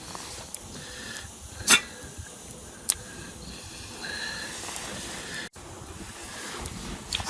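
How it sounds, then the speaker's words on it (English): Gusty wind buffets an outdoor campsite with a low rushing noise, broken by a few brief sharp knocks and clicks. "It's a bit windy today"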